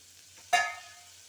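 Mace, clove, fennel and shahjeera drop into a hot pan with one sudden, loud sizzle that fades quickly into a soft crackle. The kitchen is otherwise quiet.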